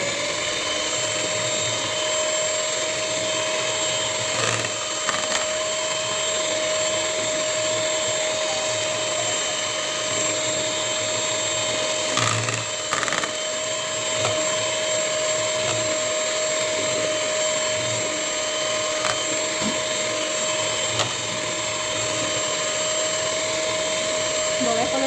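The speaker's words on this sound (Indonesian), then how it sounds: "Oke, kita mixer kembali." An electric mixer whirs steadily through batter with coconut milk for a biji ketapang snack, a constant high motor whine holding close and loud for the whole stretch.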